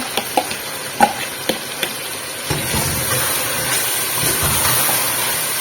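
Mutton frying with yogurt in a pan, with a few sharp spoon taps at the start and then a steady low sizzle and scraping as the meat is turned, heard close and without talk.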